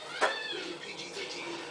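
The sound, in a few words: cat meowing as child pulls its tail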